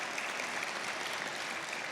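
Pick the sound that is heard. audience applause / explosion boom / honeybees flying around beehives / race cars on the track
audience applause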